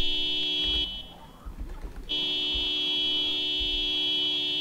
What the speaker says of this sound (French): On va essayer de klaxonner